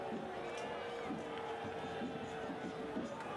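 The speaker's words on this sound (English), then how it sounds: "Crowd here at the complex not happy with the call." Stadium crowd at a soccer match between Phoenix Rising FC and Seattle Sounders FC 2, a steady dense roar of voices grumbling at a referee's call, loud and continuous throughout, with a commentator talking over it.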